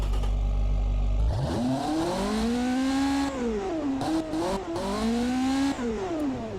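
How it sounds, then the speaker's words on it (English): A straight-piped sports car engine with no mufflers in the Automation car-building game revs up from idle, pitch climbing and falling through several throttle blips, loud and raspy with a harmonic-rich drone. "I just want to see what this thing would sound like without any mufflers. Straight piped."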